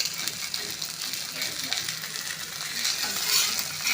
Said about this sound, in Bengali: এগুলো এক পিঠ হয়ে গেছে আমি উল্টে নিচ্ছি